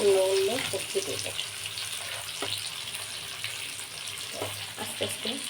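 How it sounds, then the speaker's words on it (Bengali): Pointed gourd (potol) frying in a pan gives a steady sizzle through the clip, with soft clinks and stirring taps scattered across it. "এগুলো খুলে আমি পটলটা সুন্দর করে ভেজে নেবো"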